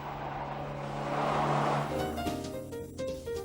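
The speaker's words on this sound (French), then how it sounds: "Quant à la Citroën Xantia, elle passe naturellement le test sans difficulté à 60 et 70 km/h." Citroën Xantia with Hydractive 2 suspension driving through a moose avoidance lane-change test at 60–70 km/h, a steady car engine and road roar building, then shifting to a busier, changing tone as it steers through.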